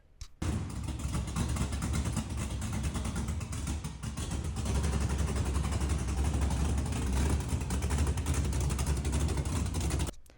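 A 1979 Chevy LUV square-body pickup with an LS V8 swap fires up and runs: the engine catches abruptly and then holds a loud, steady, rumbling idle with slight swells, close to the microphone with no speech.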